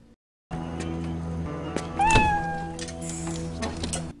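A cat meows as a transition effect in the action film Torque, a single drawn-out rising meow over a steady music bed, with a brief whoosh just before it.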